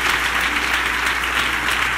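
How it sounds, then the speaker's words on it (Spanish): Steady, dense applause from a church congregation, heard as a short, even burst of many hands clapping together with a low hum underneath and no speech. "Un aplauso al Señor."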